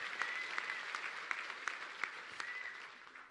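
An audience at a talk event gives a round of applause for a guest: steady, fairly faint crowd clapping with scattered sharper claps, continuing throughout with no one speaking.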